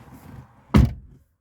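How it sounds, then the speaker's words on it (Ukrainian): A single solid Tesla Model 3 car door thump, close and fairly loud, after a quiet low rumble, then silence. "А ну закриємо двері."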